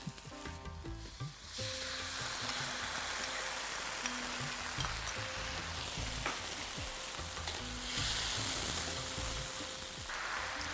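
Sauce hits a hot frying pan for a flower fish dish and erupts into loud, continuous sizzling and frying hiss, with scraping stirs of a spatula and a musical tone playing underneath, no speech.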